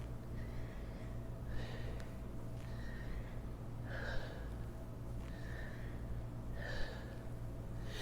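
Rhythmic kundalini yoga breathing, paced inhales and exhales repeating in steady bursts about every second or so over a low constant hum, fairly faint and with no talking.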